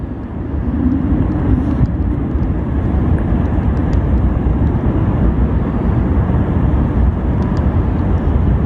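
A loud, steady roar of fighter jet aircraft noise fills the whole stretch, a broad rumbling drone with no pauses.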